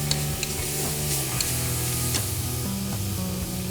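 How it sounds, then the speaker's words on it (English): Finely sliced leeks, celery and garlic sauté in a pot for a corn and chicken chowder, giving a continuous hiss of frying with a few light stirring knocks, over a soft tonal background. "Briefly saute this."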